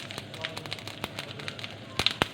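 Mustard seeds and split green gram lentils spluttering in hot oil in a pan, a run of sharp pops and crackles, with a few louder bursts near the end.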